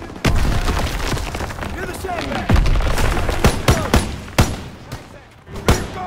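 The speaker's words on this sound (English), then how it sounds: "Gunfire! We must be near our guys." Rapid bursts of gunfire and booming shots crackle nearby in a chaotic battle scene in the video game Call of Duty: WWII, with a voice speaking briefly over the shooting.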